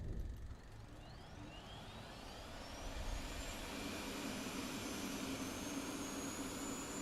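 Jet fuel starter spooling up an F-16C Viper engine in DCS World, a steady loud turbine roar with rising whine tones climbing in pitch as the start continues, no talking.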